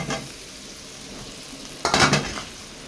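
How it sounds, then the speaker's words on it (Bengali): Taro roots tumble into a pan of cooked spice masala for a fish curry, with a low sizzle, a clatter near the start and a louder burst of scraping and stirring against the pan toward the end. "এবার আমি কচুর মুখিগুলোকে এর মধ্যে ঢেলে দেবো"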